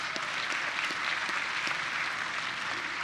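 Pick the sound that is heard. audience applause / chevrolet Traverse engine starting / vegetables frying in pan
audience applause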